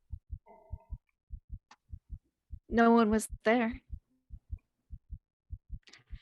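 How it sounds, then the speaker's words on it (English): A faint heartbeat thuds steadily in a visual novel game, regular paired low beats running throughout the scene while a person briefly speaks over it midway. "I like that you can hear the heartbeat very faintly"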